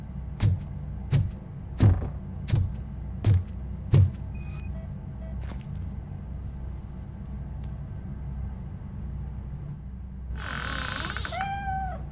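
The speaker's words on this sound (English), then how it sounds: "Mr. Cat. But where are you hiding?" Cat in RoboCop: Rogue City meowing, a run of about six short, fairly loud meows at an even pace, followed by quieter tones and a final longer drawn-out meow after a pause.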